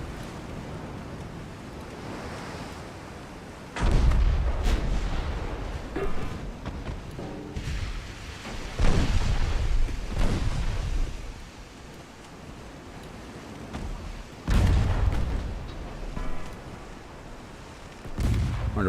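Heavy HE shell salvos from battleship guns in the naval game Ultimate Admiral: Dreadnoughts, with 1890 Russian warships, come as four loud, deep booming blasts spaced several seconds apart, each rolling off into a low rumble over steady sea-like noise.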